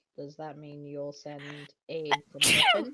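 A sharp, loud sneeze bursts out right after someone speaks a sentence during a tabletop role-playing game session, close to the mic.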